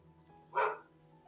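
A dog barks once at a distance, a short muffled burst rising briefly over a quiet room hum.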